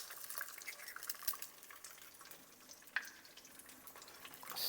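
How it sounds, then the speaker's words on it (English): Eggs for cauliflower fried rice being stirred in a pan: quiet scraping and light clatter of utensil against the pan over a faint hiss, with a sharper knock near the end, close up and without talk. "Stir this up real quick."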